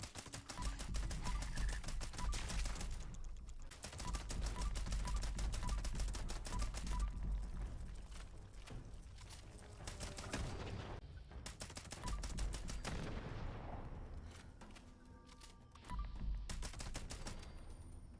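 Legendary weapon fire in Fallout 76 comes in rapid automatic bursts, loud, dense volleys separated by short pauses with some lighter clicks in between.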